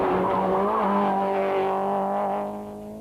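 Toyota rally car at the 1992 Donegal International Rally driving fast over bumps, a loud, close, high-revving engine note holding steady, then fading as it passes away.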